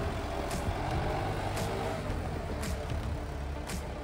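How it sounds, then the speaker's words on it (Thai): Diesel engine of a used 2017 Kubota M9540 4WD tractor idling steadily and continuously, a close, loud mechanical rumble with no break. "เครื่องติดง่ายนะครับเครื่องปกติน้ำหนักพวงมาลัยปกตินะครับไม่หนักนะครับสตาร์ทติดปกตินะครับ"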